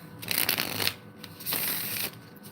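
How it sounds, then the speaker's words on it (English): A tarot card deck is shuffled close up, with two quick bursts of riffling card noise separated by a short pause. "I'm gonna shuffle this up for the first time so that I can pull a"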